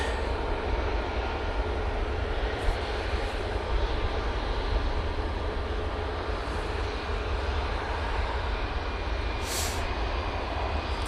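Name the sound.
Etihad jet aircraft at Manchester Airport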